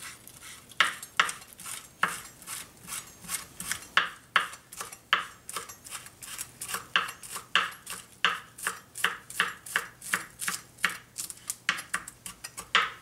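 Knife chopping an onion on a cutting board for egg drop soup garnish, a long run of crisp, quick, evenly spaced taps up close, with no talk.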